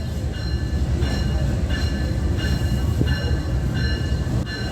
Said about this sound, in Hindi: लोकोमोटिव बहुत ही खूबसूरत अंदाज में आ रहा है